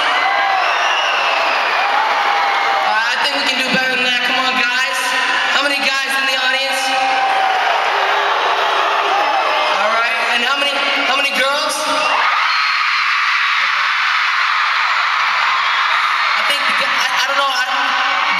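A concert crowd of young fans at a show in Fresno screams and whoops loudly in sustained bursts, with someone talking over the arena noise in between.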